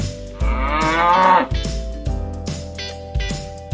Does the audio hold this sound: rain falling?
no